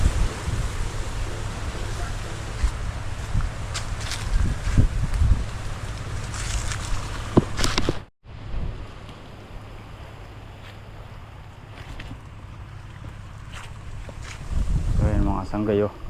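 Wind gusting across rice fields, a steady broadband rush with microphone buffeting that drops out briefly midway, then returns with a louder surge near the end.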